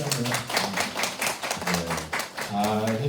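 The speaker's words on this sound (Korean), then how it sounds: "박수 한 번 드리고" A small group of students claps briskly for a few seconds for their English camp teachers at an orientation, close by, with a voice speaking over the clapping near the end.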